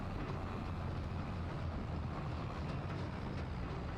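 A tractor engine strains with a constant low rumbling drone in Farming Simulator 25, steady and unbroken with no talk over it.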